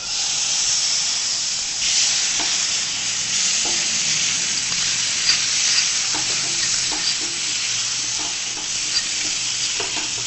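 Mashed rajma fries with masala in a pan for katti rolls, a loud steady sizzle and steamy hiss punctuated by spoon scrapes and stirring knocks, close up with no speech.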